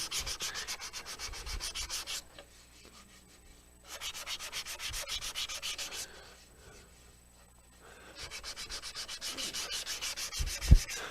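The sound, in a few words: hand sanding a turned wooden piece with sandpaper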